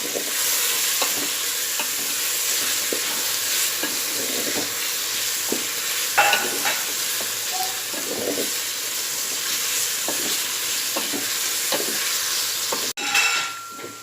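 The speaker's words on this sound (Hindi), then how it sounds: "अब मैं इसे प्याज में और टमाटर में भूनूँगी।" Large tiger prawns fry with onion and tomato, giving a loud, continuous sizzle with stirring scrapes throughout and a sharp clank near the end, with no one talking.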